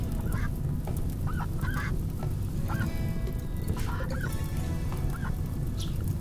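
Ducks honking in the colony game RimWorld, a series of repeated nasal honks at a steady pace, spread across the clip over a constant low rumble of fire and game ambience.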